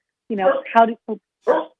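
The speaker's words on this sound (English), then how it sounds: "that's my dog. No worries." A dog barks several times at close range in a home, short sharp barks in an uneven burst of four.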